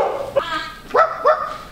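A dog barks three times in quick succession, close and fairly loud, each bark rising in pitch with a slight whining tone.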